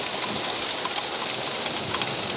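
Rain falls hard and evenly in a summer storm, a constant broad wash of drops on surfaces lasting throughout, with no speech.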